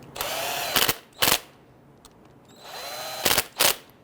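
A power tool drives the rear brake caliper bolts on a 2011-2017 Nissan Quest: two sustained whirring runs, each ending in short sharp bursts as the bolts seat, close and loud, with quiet pauses between.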